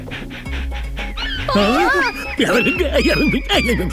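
A man playfully imitates a dog in a comic film scene, giving a few yelping barks and whimpers with his voice mixed in among talk and background music.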